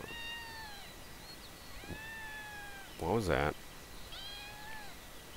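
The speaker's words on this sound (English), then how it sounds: "Sounds like a kitten." Repeated kitten meows in the farming video game Cattle and Crop, a few thin rising-falling cries spaced out across the clip, with a voice speaking briefly in the middle.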